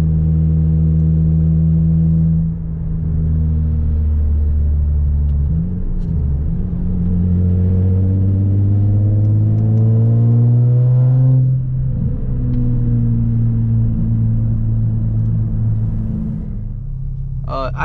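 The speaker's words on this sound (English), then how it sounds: "When you get to high RPMs, it sounds kind of raspy in that VQ sound" Nissan 350Z with a swapped VQ engine running steadily, a loud close low rumble with slow rises and falls in pitch as the revs climb and settle, raspy at the top, continuous throughout with no talking.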